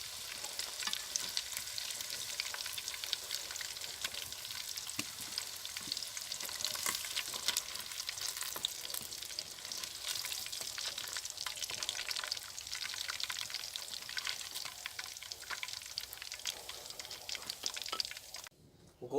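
Chicken pieces for crispy pakoras fry in a pan with a dense, steady hiss and crackle of sizzling oil lasting nearly twenty seconds, close and continuous, with no talk.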